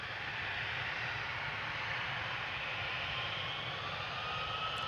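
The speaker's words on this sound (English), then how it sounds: "SAS flight 556 CRJ900. Going to Stockholm" At Amsterdam Schiphol, an SAS CRJ900 regional jet makes a steady, even jet roar at moderate distance that holds without a break.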